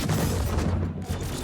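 Missile launch in the space combat game Star Citizen during an Anvil Arrow dogfight: a loud, sustained low rumbling boom with a heavy, continuous roar.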